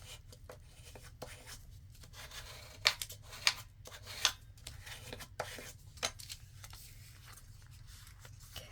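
Scissors trim a paper envelope pocket in a few quiet crisp snips spaced a second or so apart, close but faint over low room hum.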